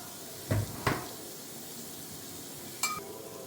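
Onions and green chilies frying in a pan, a soft low sizzle broken by a few sharp clatters of a spoon or utensil, no talking.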